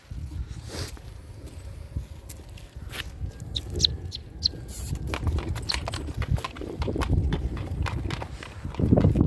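Young stallions offered for sale are led along, their hooves clip-clopping in an uneven walking rhythm at close range, with some rustling and occasional birds in the background.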